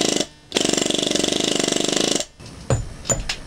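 A pneumatic air hammer shapes a wood carving in two close, loud bursts of rapid rattling blows, the longer one near two seconds, followed by scattered lighter taps.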